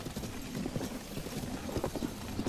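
A horse's hooves clip-clop in The Legend of Zelda: Tears of the Kingdom, giving a steady, even stream of footfalls under continuous game ambience at moderate loudness.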